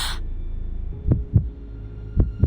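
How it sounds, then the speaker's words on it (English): Heartbeat sound effect in the Reverse 1999 video game: two deep, muffled double thumps, lub-dub pairs spaced about a second apart, over a faint low hum. "Her heartbeat quickens in her chest."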